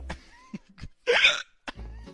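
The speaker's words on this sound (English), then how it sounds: "I have the hiccups" Short, sharp hiccups break up the quiet, with a few abrupt voiced bursts and one longer throaty sound in the middle, close and isolated.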